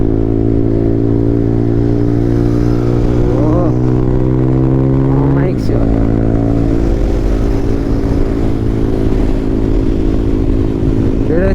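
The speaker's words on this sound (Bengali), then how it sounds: "সব রাইডাররা একসঙ্গে, গ্রুপে দুটো বাইক বেরোচ্ছে" Yamaha R15 V4 motorcycles setting off together as a group on a Sunday ride, engines loud and close with a steady drone, a revving rise partway through, and voices talking over them.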